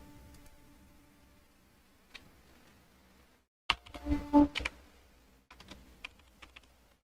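Computer keyboard keys clatter in short, irregular bursts during an HTML coding lesson, mostly quiet at first and then a quick flurry of close, crisp clicks in the middle, followed by a few scattered taps.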